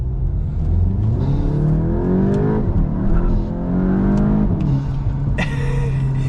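A Volkswagen Mk8 GTI 40th Anniversary accelerates hard in first gear. The close, loud engine note climbs steeply in pitch, eases, then climbs again before dropping away.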